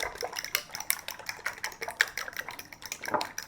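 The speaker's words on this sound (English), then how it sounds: "We're going to beat our eggs." A utensil beats four eggs in a bowl, giving rapid, steady clinking and tapping strokes against the bowl, close and moderately quiet, with no voices.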